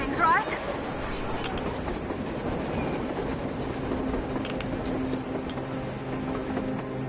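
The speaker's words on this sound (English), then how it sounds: "A train! A damn train!" A train rolls past in the post-apocalyptic game Metro Exodus with a continuous rumbling clatter and rhythmic clickety-clack, steady and fairly loud throughout, with a voice speaking over it.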